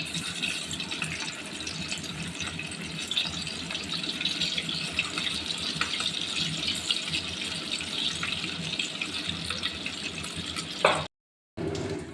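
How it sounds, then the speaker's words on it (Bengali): Chhana bora, cottage cheese fritters, fry in bubbling hot oil in a karai, a dense, steady sizzle close by that cuts out briefly near the end, with no voices. "এবার ছানার বড়াগুলো এক এক করে তেলের মধ্যে ছেড়ে দিলাম"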